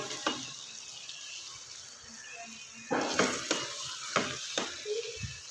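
Chicken karahi sizzles while frying in the pan, a low hiss broken by a run of loud spatula scrapes and stirs in the second half.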